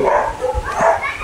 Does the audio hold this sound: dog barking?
yes